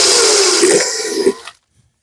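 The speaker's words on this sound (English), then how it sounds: "Drill a hole in the center." A power drill bores a hole through the center of a carved pumpkin lid, a loud, steady whirring grind lasting about a second and a half before cutting off into silence.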